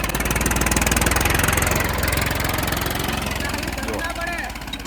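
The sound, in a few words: 39 HP tractor engine running in a field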